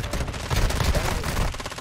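Rapid gunfire from a Call of Duty DMZ match, a dense loud burst of overlapping shots rattling continuously through the short moment.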